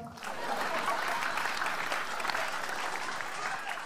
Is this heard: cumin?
no